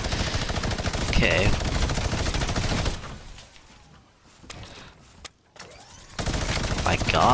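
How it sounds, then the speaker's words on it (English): Rapid minigun fire from a tank battle in the game Siphon 2.0, a dense continuous roar of shots that drops out briefly mid-clip, with a short spoken word over it. "what is with this guy and minigun spamming, dude?"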